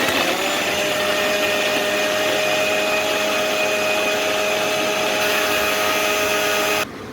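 An electric mixer grinder runs loud and steady while grinding poppy seed paste, a continuous high whine that cuts off abruptly near the end, with no talking.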